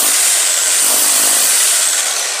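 A cheap TEENO rotary hammer drill, model 32, grinds steadily into a solid surface, giving a loud continuous harsh hiss and rattle with no talking over it.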